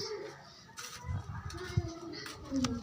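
Pigeons from a breeder's loft cooing softly at close range, several low, throaty coos with light rustling and scratching between them, faint and intermittent.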